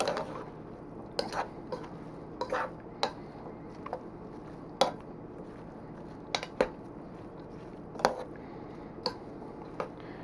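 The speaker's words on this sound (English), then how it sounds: "you just keep stirring, get everything really nice and integrated" A spoon works through sausage and apple stuffing with croutons and broth in a pot, giving soft, irregular taps and clicks against the pot over a faint, quiet background, with no talking.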